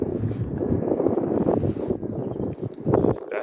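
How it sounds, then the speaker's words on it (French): Wind buffets a microphone outdoors, a steady low rumbling roar with gusty swells and a brief lull, loud and close throughout. "Bon, il y a un peu de vent, mais c'est pas très grave ça."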